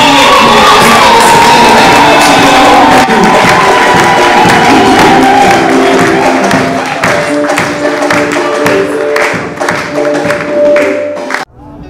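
A church congregation at the inauguration of Arche de l'Alliance church in Kiwadja cheers and shouts loudly, a dense crowd roar with whoops and claps that thins toward the end.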